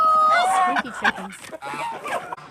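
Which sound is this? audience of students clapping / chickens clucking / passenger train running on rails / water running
chickens clucking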